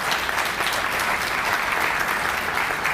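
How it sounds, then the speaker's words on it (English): A crowd at a community celebration gives a round of applause, steady dense clapping filling the room evenly from start to finish. "one more little round of applause for that group"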